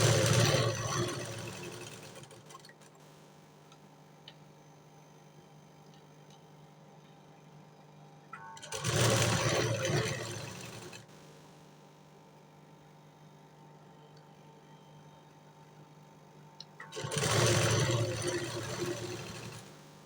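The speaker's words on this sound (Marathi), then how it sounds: "सेकंडवाली शिलाई ती पण आपल्याला इलास्टिकवरती खेचूनच मारायची आहे" A sewing machine stitches elastic into puff sleeves, pulling the elastic taut while sewing, in two loud bursts of fast running stitches separated by long quiet pauses with a steady low motor hum in the background.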